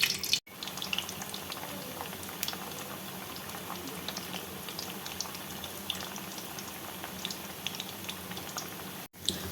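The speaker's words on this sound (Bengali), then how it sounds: "এবার বলগুলো ভেজে নিব।" Chicken balls fry in hot oil in a kadai, giving a dense, steady sizzle and crackle that runs unbroken at an even loudness, with no voices.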